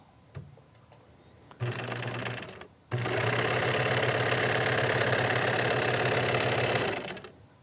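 A sewing machine stitching fabric runs in a short burst, pauses briefly, then runs steadily and loudly for several seconds before stopping, its motor whirring close by.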